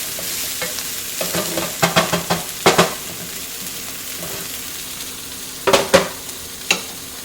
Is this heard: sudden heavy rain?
no